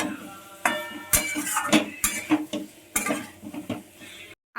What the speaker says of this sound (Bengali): আগে থেকে ভেজে রাখা ফুলকপি আর আলুগুলোকে এর মধ্যে দিয়ে ভালো করে নাড়াচাড়া করা স্টার্ট